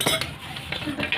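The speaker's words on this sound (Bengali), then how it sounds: "এবার ভালো করে নাড়িয়ে দেবো" A metal spatula scrapes and clinks around a pot of meat curry with added water, a few quick close stirring strokes against the pot with no speech.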